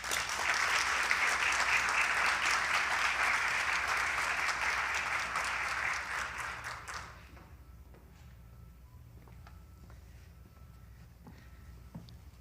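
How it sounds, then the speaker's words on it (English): Applause at the 2022 California Green Ribbon Schools Award Ceremony, a dense, steady clapping crowd for about seven seconds that then stops abruptly, leaving quiet room tone with a few faint taps. "one more round of applause for that"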